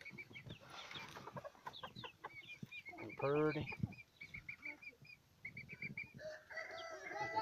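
Backyard chickens, including a young bird expected to be a rooster, cluck and call close by in a busy, overlapping chorus, with one louder drawn-out crow-like call midway and someone speaking briefly.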